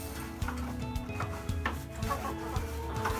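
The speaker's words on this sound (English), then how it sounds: "Scrub in and around your water very well." A chicken waterer is scrubbed with hot water and bleach, producing quiet, continuous rubbing and rasping strokes in an uneven back-and-forth rhythm, close and fairly faint.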